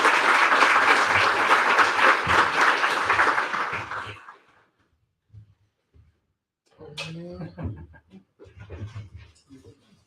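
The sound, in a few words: applause for the speaker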